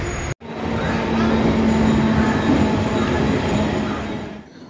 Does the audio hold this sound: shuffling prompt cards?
no